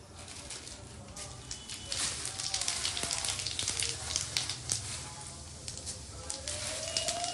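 Whole cumin seeds sizzle in hot oil, giving a steady, fairly soft crackling hiss with scattered pops. A faint whistling tone rises near the end.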